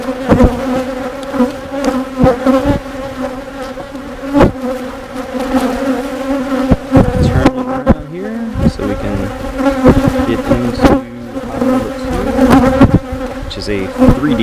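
Dense honeybee buzzing close by at an opened hive during an inspection of a three-deep brood chamber, a constant drone broken by sharp knocks and thumps of handling.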